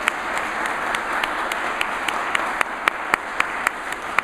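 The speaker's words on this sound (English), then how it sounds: "let's give Colton's a big round of applause" Audience applause at a business association luncheon for the caterer, a steady, dense round of clapping with a few louder individual claps standing out in a regular beat near the end.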